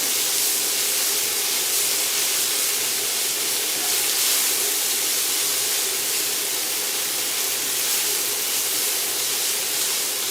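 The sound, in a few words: garlic and ginger frying in a very hot pan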